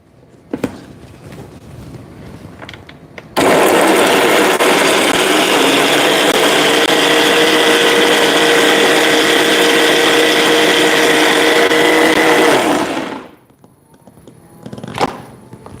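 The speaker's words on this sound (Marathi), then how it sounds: "आता हे मिक्सरला छान फिरवून घेऊयात" Mixer grinder blending onion and raw mango chutney with red chilli, salt and jaggery, a loud steady whirring roar running about ten seconds before cutting off, with faint kitchen noises around it.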